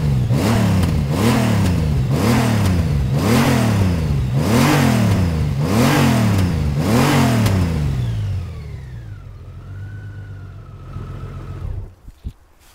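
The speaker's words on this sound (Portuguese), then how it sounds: "Pá, este escape tem um som que eu adoro." A Honda Gold Wing motorcycle exhaust revs hard about eight times in regular surges, loud and close, then drops to a low idle with a fading whine and a few clicks at the end.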